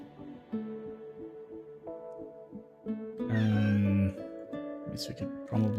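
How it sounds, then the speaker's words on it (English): A cat meows insistently, with a few drawn-out, loud cries in the middle, while someone talks on and off around it. "I don't know if you can hear him, but he is really meowing it up."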